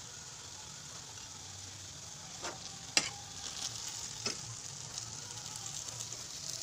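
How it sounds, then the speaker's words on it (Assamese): Assamese laopolla pitha fries in a pan with a continuous soft sizzle, broken by a few sharp clinks and scrapes as pieces are turned over. "এতিয়া এটা ছাইড ভজা যোৱাৰ পিছত এনেদৰে লুটিয়াই দিছোঁ।"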